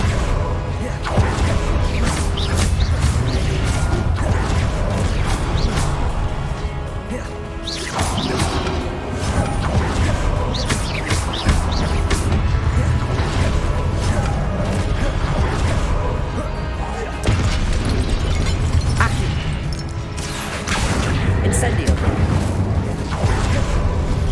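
Incendio fire spell cast during combat in Hogwarts Legacy, heard as loud, sustained whooshing and crashing impacts with repeated booms, roughly steady over the stretch with brief dips between bursts.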